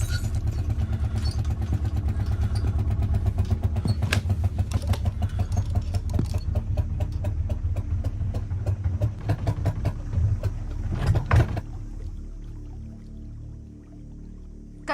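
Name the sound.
boat engine running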